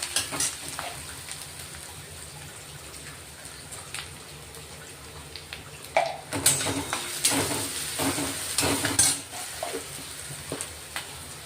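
Onions frying in a pan with salt added, a crackling sizzle with irregular stirring scrapes and louder bursts of spattering toward the middle and later part.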